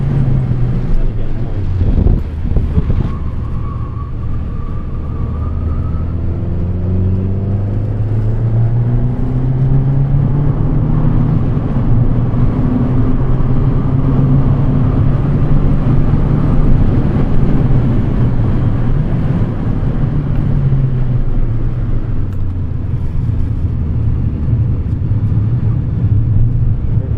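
A Ferrari engine pulls hard at full power on a track, a loud sustained roar heard from inside the car that rises in pitch through the gear, under heavy wind rush.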